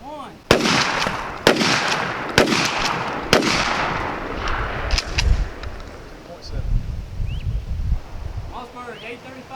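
Mossberg 500 12-gauge shotgun firing four loud, sharp blasts about a second apart, each with a short echoing tail, followed by lingering rumble and faint outdoor noise.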